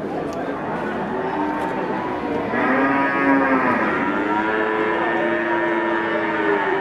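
Several cattle moo loudly and repeatedly in overlapping calls at the Wage cattle market in Pati, with a steady background murmur of a crowd throughout.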